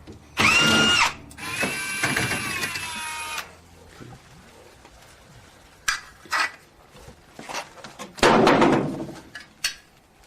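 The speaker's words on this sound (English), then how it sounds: "having an electric drill will be very helpful for taking these out" An electric drill whirs in two short bursts removing screws from a wood-fired oven, followed by clinking of metal parts and handling clatter, with quieter gaps between.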